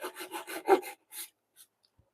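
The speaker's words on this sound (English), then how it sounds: "I'm gonna do both sides with the saw because it's a pain in the butt" Hand saw cutting wood, a quick series of about six rasping back-and-forth strokes, close and fairly quiet, then a few lighter strokes trailing off into silence.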